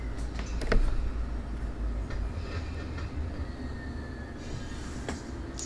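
Railcars rolling and clanking as a train is humped at a rail yard in Run8 Train Simulator, with a steady low rumble, scattered metallic clicks and a faint squeal, no talk.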